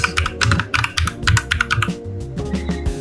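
Computer keyboard typed on while naming a virtual machine for Kali Linux in VirtualBox, a close, brisk run of clacking keystrokes with a faint hum underneath.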